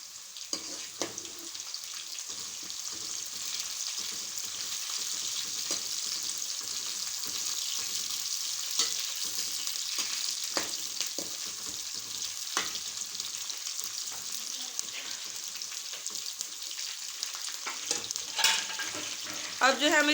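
Green chillies sizzle and crackle in hot oil while frying for beef keema pulao, a continuous close sizzle with occasional stirring scrapes and spoon knocks.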